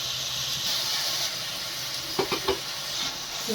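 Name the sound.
onions and vegetables frying in a pan with salt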